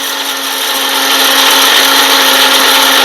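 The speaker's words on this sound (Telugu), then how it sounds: "ఇప్పుడు మిక్సీ బరగ్గా పట్టుకుందాం, మరి మెత్తగా కాకుండా కొద్దిగా బరగ్గా పట్టుకుందాం" An electric kitchen mixer grinder coarsely grinds spices and turmeric, a loud, continuous high-pitched whirring motor that rises slightly as it spins up and holds steady throughout.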